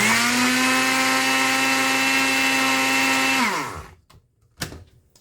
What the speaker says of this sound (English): Just move it around and listen to the sound and see how fine you have grinded the seed.